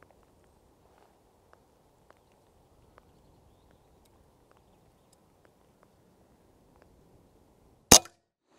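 An air rifle shot fired while zeroing the scope before rabbit hunting: one sharp, loud crack near the end, after a quiet stretch with only faint soft ticks.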